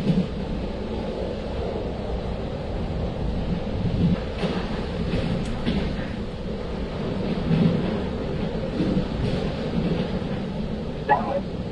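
An SNCF BB 16500 electric locomotive hauls a freight train past with a continuous rumbling roll of wheels and wagons and occasional rattles and clanks, loud and close throughout.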